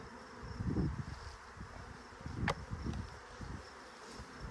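Honey bees buzz thickly around a hive, a dense droning hum that swells and fades as individual bees pass close by.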